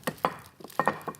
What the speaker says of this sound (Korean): 자, 얼른 썰어볼게요